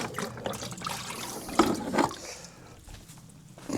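Water pours and splashes into a bucket with a gurgling, uneven flow, close by, with no talking.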